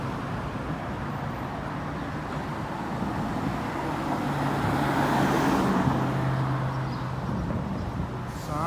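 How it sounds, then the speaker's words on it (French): A Lamborghini Urus drives by on a Geneva street, its engine swelling above a steady roar of traffic and then fading, fairly close. "Petit Lamborghini Urus."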